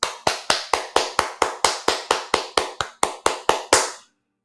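Hand claps imitate doors latching open one after another, about fifteen sharp, evenly spaced claps in rapid succession that stop abruptly, close and loud with nothing else heard.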